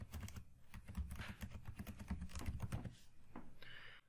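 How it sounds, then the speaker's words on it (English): Fast, steady clatter of typing on a computer keyboard, close and fairly quiet, with irregular key taps running for the whole four seconds and no one talking. "You can type information into cells."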